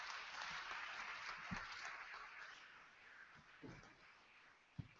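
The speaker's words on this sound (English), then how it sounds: "One last round of applause for our medical panel," A conference audience gives a round of applause to a medical panel. The clapping is faint and distant, a soft wash of hands with a few sharper claps standing out near the end.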